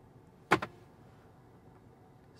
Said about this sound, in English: you could just say open glove box and it'll open